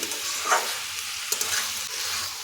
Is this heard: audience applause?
no